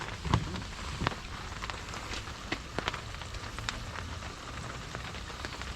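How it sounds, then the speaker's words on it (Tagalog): Heavy rain falls at a campsite in Baguio, Benguet, a soft, steady patter on surfaces with scattered sharper drops and taps, fairly faint and heard alone. "Pero malakas nga ulan."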